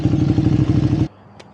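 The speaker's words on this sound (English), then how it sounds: "Ethan has a very nice Ducati V2 Panigale. Here comes Ethan" A Ducati V2 Panigale sport motorcycle pulls up at a gas station, its loud, close, throbbing engine roar holding for about a second before cutting off abruptly into near silence.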